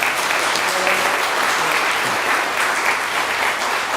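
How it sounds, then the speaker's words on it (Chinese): A congregation applauds together during a Taiwanese-language worship service at Shuanglian Church, a steady, dense wash of clapping that fills the whole stretch without a break. "咱搁一遍鼓掌来鼓励因"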